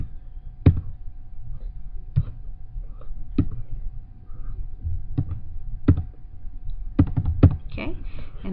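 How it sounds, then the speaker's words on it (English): Sparse, sharp clicks of keys being pressed on a keyboard, irregular and spaced out, over a low background hum. "You would just basically be typing in the NPI number here."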